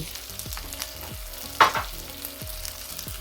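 Pork binagoongan being stirred in a frying pan, a steady frying sizzle under repeated soft scraping strokes of the spatula, with one louder clattering scrape partway through; nobody speaks.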